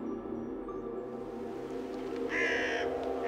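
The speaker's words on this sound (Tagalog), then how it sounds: "Napakarami daw po kasing lumilipad na itim na ibon sa himpapawid, mga uwak" Crows caw outdoors, a few harsh, rasping calls standing out over a steady background hum, fairly close and heard without any talking.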